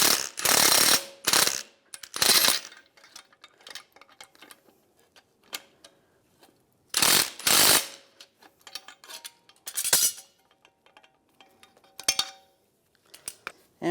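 A ratchet wrench tightens a ball stud nut on the suspension knuckle of a 1998–2010 VW Beetle, sounding as close, loud bursts of rapid clicking separated by pauses, with softer single clicks and handling noises in between.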